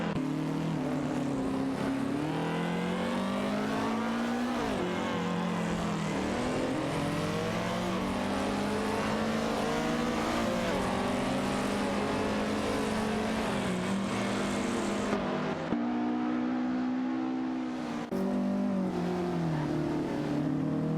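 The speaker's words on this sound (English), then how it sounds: "Racing car dashing away." A racing car roars continuously, its engine pitch rising and dipping through gear changes as it pulls away, loud and sustained without any talk.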